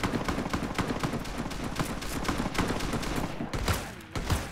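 Gunfire at a shooting range in Fallout: New Vegas, a steady dense fusillade of rapid shots cracking close and loud, with a brief lull near the end before more bursts.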